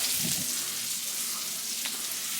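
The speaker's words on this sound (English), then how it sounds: "all I did was put some bacon and sausage in here" Bacon and sausage fry in a pan with a steady, close, even sizzle that holds without a break, with no talking.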